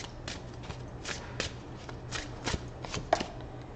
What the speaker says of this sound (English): I'm going to pull one of mine from my runes oracle deck.